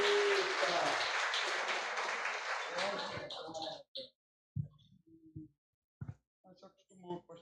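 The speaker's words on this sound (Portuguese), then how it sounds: "Você pode aplaudir ao Senhor" Congregation applauding during an evening church service, dense clapping for several seconds that thins and fades, followed by quiet talk and scattered sounds.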